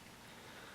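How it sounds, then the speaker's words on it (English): Soft rain patters faintly and steadily in the background as an even, continuous hiss with no distinct drops. "So if you hear soft pitter patter in the background, that is the rain that you're hearing."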